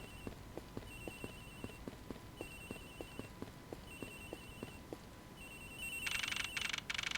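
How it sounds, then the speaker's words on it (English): A phone rings in the video game Ace Attorney Investigations, its electronic trill repeating in regular bursts over evenly spaced soft footstep clicks, quiet, ending with a brighter burst of game effects. "The ringing's coming from somewhere in here, sir."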